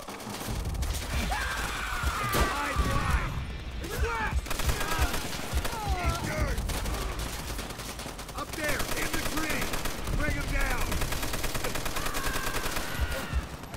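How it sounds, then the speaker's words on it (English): Dense, continuous gunfire fills a Call of Duty: World at War battle, rapid machine-gun bursts and shots running throughout over shouted voices. "Sniper fire!"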